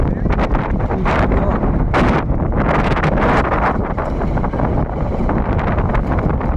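Strong, steady wind roars and buffets close against the microphone for the whole stretch, with gusty surges and no voices.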